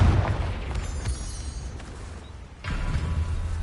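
Confringo explosion spell blasting in the video game Hogwarts Legacy, with a few deep booming bursts at irregular intervals over a steady rumbling game ambience.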